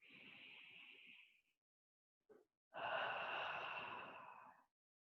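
Two long, breathy exhales during a guided stretching session, separated by a short quick breath; each is a soft airy whoosh that fades out, heard close and alone with no talking.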